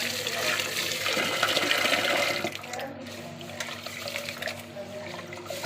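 Flattened rice (aval) being rinsed in water, with steady splashing and swirling that is louder at first, then a softer trickle and faint sloshing, close by without talk.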